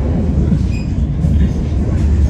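A Ranggajati business class passenger train runs through rain, giving a steady, loud low rumble and rolling noise that fills the whole stretch, with no speech over it.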